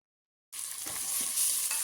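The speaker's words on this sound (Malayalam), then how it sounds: "എന്നിട്ട് അത് കുക്കറിലേക്ക് ഇട്ടിട്ട് നല്ല പോലെ ഒന്ന് വഴറ്റി കൊടുക്കുക" Sliced onions fry and get stirred in a pressure cooker, a soft sizzle starting abruptly after a moment of silence, with scraping stir strokes under it and no voices.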